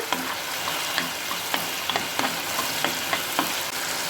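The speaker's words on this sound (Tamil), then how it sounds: "அதனால் பூண்டு இப்போ தனியாக வறுத்து போடுறேன்." Garlic frying on its own in a pan gives a continuous close sizzle, broken by regular scraping stir strokes every half second or so, with no voices.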